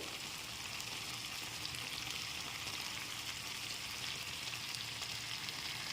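Spiced potato curry with yogurt being stirred over a low flame, giving a steady, even sizzle and soft bubbling close by, with no talking.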